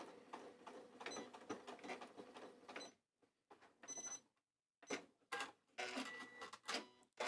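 Sewing machine stitching a seam with the foot's edge following an overlocked outer edge of cushion fabric, bursts of fast mechanical whirring broken by short pauses, close and alone.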